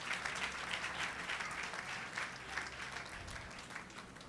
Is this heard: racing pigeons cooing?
no